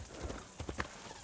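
Horse hooves clip-clop in a steady uneven gait in the video game Assassin's Creed Shadows, a brief moderately loud stretch with no talk.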